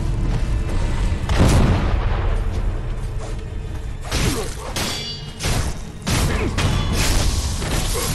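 Gunfire and heavy impacts from enemies shooting at the player in the action game Sekiro, a dense run of loud booming bursts and crashing thuds that keep recurring through the fight with no pause.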